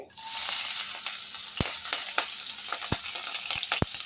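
Green chillies hitting hot oil in a pan, a close, steady sizzle and crackle with several sharp pops and spatters scattered through it.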